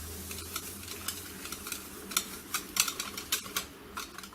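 A spoon stirs black chia seeds and maple syrup into runny strawberry jam, making a soft, continuous wet scraping close by, broken by light clicks against the bowl.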